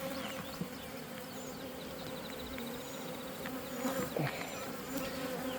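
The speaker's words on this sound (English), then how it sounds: "I'm going to show you how to transport bees from this box to that box." A bee swarm in a hive box buzzes steadily, a dense continuous drone with individual bees passing close by, no talk.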